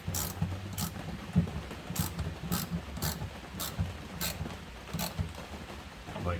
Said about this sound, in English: Have your 1/2-inch ratchet and just go easy.